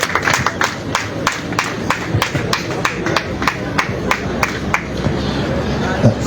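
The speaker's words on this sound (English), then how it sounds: "May we please give him a round of applause" A ceremony audience claps in a thin, uneven round, with sharp individual hand claps ringing out over a background of room chatter and murmuring voices.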